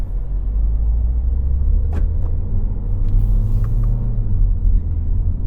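A MINI JCW with an automatic gearbox pulls away under throttle, its engine a steady, loud low rumble heard from inside the cabin, with a few faint clicks over it.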